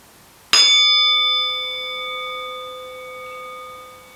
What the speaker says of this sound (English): when I ring the bell you can just close your eyes and listen for as long as you can hear it